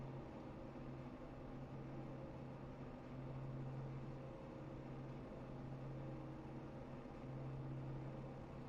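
Race car engines drone and rumble steadily at a distance at Talladega during a K&N Series race, a constant mechanical hum with a low tone that swells and fades in a slow cycle.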